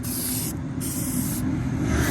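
An aerosol can sprays anti-rust paint during a touch-up on a Kenworth W900L truck, a loud close hiss in three short bursts with brief pauses between them.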